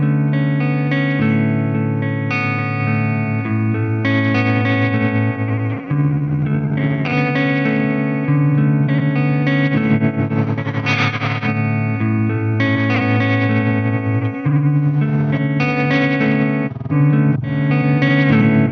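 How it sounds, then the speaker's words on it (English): A Chroma Console guitar pedal set to its interference effect colours a continuous played guitar part with dense distortion, chorus-like warble and glitchy wavering, loud and unbroken throughout with no voices. "So let's hear the Chroma console and interference."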